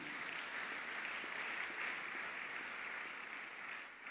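A church congregation applauding steadily, a dense continuous clatter of clapping hands that holds even and full for the whole stretch before easing slightly at the end.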